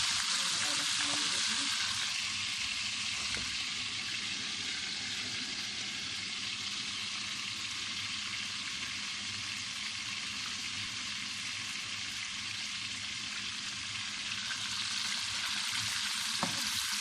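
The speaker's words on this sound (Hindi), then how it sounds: "गोश्त को अच्छी तरह फ्राई कर देंगे।" Meat frying in a pan, a continuous, even hiss of hot oil sizzling at close range throughout, with no talking.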